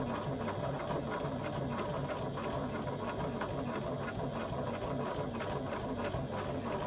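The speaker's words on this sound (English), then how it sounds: "I'm stitching around my pocket using an 1/8 of an inch seam allowance" A sewing machine running steadily as it stitches around a fabric pocket with a narrow seam allowance; a continuous close, even mechanical whir throughout, with no talk.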